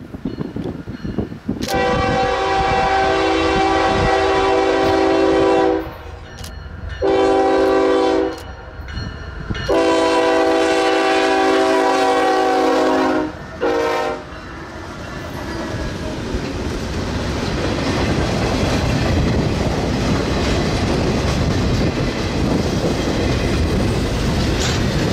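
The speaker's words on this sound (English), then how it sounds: "First up was southbound manifest train 35Q." Southbound manifest freight train 35Q in Front Royal, Virginia, sounds a loud horn in a long-short-long-short pattern, then its cars roll past with a steady, loud rumble and rattle, no voices.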